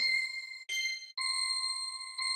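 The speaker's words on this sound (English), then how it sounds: "now we can add a counter melody with some bells maybe" Bright synthesized bell tones ring out in a few sustained strikes, clear and alone, with short gaps between them.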